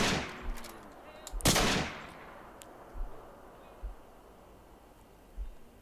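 Gunfire in the video game Fallout 4: a loud sharp shot followed by several fainter spaced shots and thuds over a quiet background.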